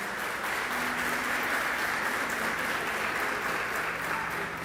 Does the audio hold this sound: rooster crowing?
no